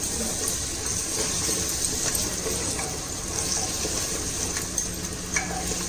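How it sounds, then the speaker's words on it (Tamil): Yogurt being stirred into hot oil in a pan while cooking tikka biryani, a steady soft sizzle with faint scraping stir strokes, continuous and close, no voices. "போட்டு அந்த எண்ணெயோட நல்லா மிக்ஸ் பண்ணிடுங்க"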